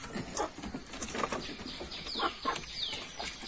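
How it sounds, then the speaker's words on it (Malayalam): Backyard chickens being fed kitchen scraps such as papaya seeds, with soft intermittent clucks and chirps, light flutters and scratching nearby, fairly quiet with no talking. "നമ്മുടെ കോഴിയൊക്കെ ഞങ്ങൾ കൊടുക്കുകയാണ്."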